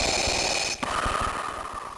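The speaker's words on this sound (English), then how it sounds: "Even Darth Vader's breathing sounds accurate." Darth Vader's mechanical breathing in a Star Wars video game, a hissing respirator inhale that cuts off sharply and gives way to a lower rasping exhale, fairly faint and alone.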